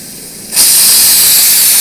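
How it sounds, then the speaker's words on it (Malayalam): A pressure cooker cooking beef curry lets off its whistle, a sudden loud, sustained steam hiss that starts after a brief quiet moment and continues steadily at close range. "ആ നമ്മുടെ ഒരു വിസിൽ വന്നു"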